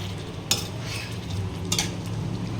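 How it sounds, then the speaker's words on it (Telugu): Chicken leg pieces fry in a pan over high heat, deep-fry style, under a steady sizzle. A spoon scrapes through the pieces twice, with distinct stirring clatters near the start and again in the middle. "ఇప్పుడు హైలో పెట్టుకొని ఇక్కడే ఉండి కలుపుకోవాలి"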